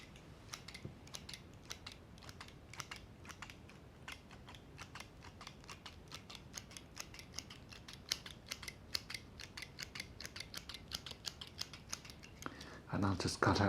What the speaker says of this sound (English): I use these tiny scissors.